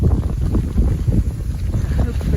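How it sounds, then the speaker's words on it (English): Strong autumn wind buffets the microphone in a garden, a loud, continuous low rumble with gusty surges and no break. "sorry about the wind. It's absolutely awful."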